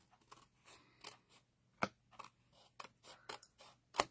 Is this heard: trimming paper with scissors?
yes